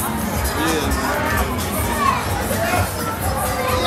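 Dense, loud crowd noise at a Volksfest funfair in Germany, with carousels and ice cream stalls nearby: continuous babble of many voices mixed with children's shouts and occasional cheers.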